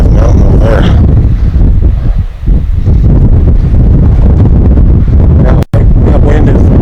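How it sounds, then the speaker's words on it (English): Strong wind on Old Man Mountain roars continuously and loudly against the microphone, a heavy buffeting rumble that eases briefly near the middle and cuts out for an instant near the end. "That wind is terrible."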